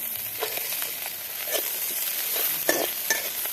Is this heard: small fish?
yes